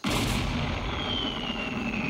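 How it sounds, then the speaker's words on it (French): A cartoon cannon fires with one loud, sustained boom that rumbles on with a thin whistling tone above it, alone without voices. "voici l'engin qui fera boum une fois semaine"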